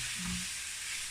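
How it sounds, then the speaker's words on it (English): Garlic being stir-fried in a pan for chicken fried rice, heard as a steady close hiss of sizzling oil with a brief low scrape near the start and no talking. "Give them a stir fry. Smell nice now. You can smell it nice, smell the garlic coming through."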